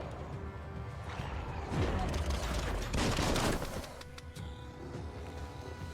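Dense gunfire and crashing blasts in the video game Biomutant as a rocket is shot at, rapid bursts swelling around the middle of the stretch over a busy game soundtrack with some talk mixed in.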